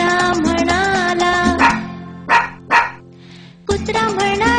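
A dog barks twice in a Marathi animated children's song: two short, sharp barks separate stretches of singing and music, with a brief quiet pause before the song resumes.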